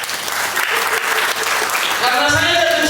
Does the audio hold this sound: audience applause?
yes